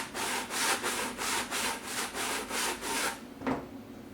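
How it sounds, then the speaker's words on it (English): Close, steady back-and-forth sanding along the rough wooden edge of a Wyrmwood GM screen, about seven even rasping strokes in rhythm, then a brief pause and a single lighter scrape. "so I'm going to sand that a little bit."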